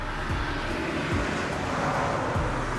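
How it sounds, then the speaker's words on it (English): Cars drive past on a road as a steady, low traffic rumble with a few faint whooshes of passing vehicles, heard at a moderate distance with no talking. "It's gonna be a lot of noises like all these cars going by."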